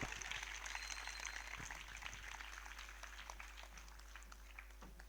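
A church congregation claps at a Telugu sermon, a faint, dense patter of hands spreading across a quiet hall under a steady low hum, gradually thinning out.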